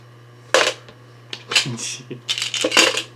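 Dice from a collection being handled and tipped out, with several bright clattering bursts of hard little cubes knocking together, close and fairly loud, separated by short pauses and a steady low hum.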